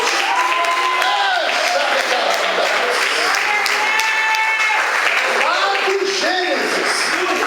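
A church audience claps steadily throughout while raised voices and shouts ring out over the continuous applause, loud and close.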